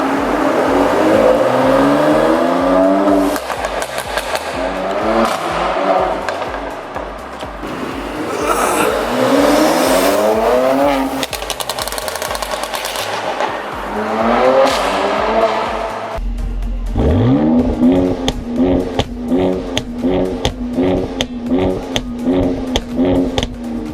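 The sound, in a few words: modded Mercedes C43 AMG exhaust pops and revving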